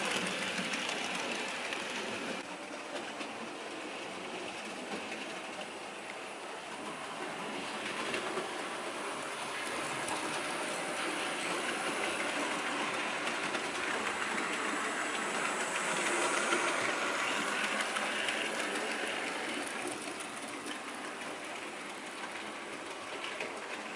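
Model train running along the main lines of a newly ballasted layout, a continuous whirring rumble with rail clatter that swells and eases as it passes, steady throughout.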